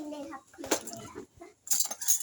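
A metal spoon clinks against dishes while freshly made fried rice is served, a few scattered sharp taps and scrapes between bursts of nearby conversation, with a louder cluster of clinks near the end.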